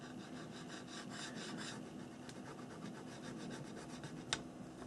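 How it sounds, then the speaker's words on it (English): Paint being scraped off a mixed media card, a soft, dry, repeated rasping and rubbing that is close but faint, with one sharper scratch near the end and no speech. "I'm just scraping some of the paint off there"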